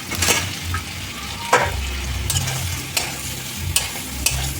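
Potato pieces are stir-fried in a spiced masala paste, loud close sizzling punctuated by repeated scraping strokes of a spatula against the pan.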